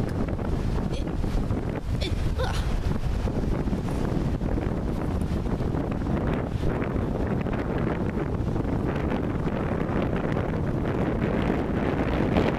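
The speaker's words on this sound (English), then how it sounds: "Very windy" Strong wind buffets the microphone continuously, a loud, steady roar with gusty rumbling throughout and no voices.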